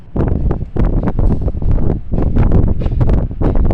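Strong wind buffets the microphone in loud, continuous rumbling gusts, with a roaring, rushing texture throughout, high up on a 48-floor tower.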